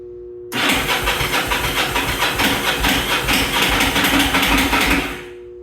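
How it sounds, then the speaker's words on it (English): A Yamaha V Star motorcycle starter clunks and churns on a weak battery: a loud, steady grinding with rapid rhythmic pulses that runs about five seconds, then cuts off. "The starter's going clunk, clunk."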